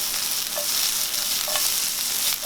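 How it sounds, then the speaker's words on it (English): Tortillas sizzle and fry in a hot pan while being softened for fajitas, a steady close crackle with a few brief stirring scrapes, no voices. "So we're gonna throw in tortillas, soften them up a little bit, cook them"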